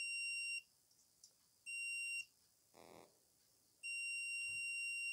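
A multimeter's continuity buzzer sounds in three loud, steady electronic beeps while the probes test a refrigerator compressor's terminals, separated by quiet gaps with a brief rustle of handling.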